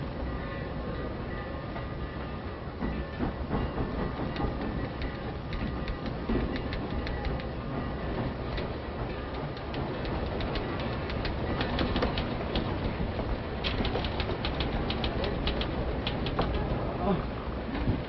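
A passenger train rolls steadily along the rails with continuous rumble and faint clickety-clack, a broad constant roar throughout, with some talk faintly mixed in.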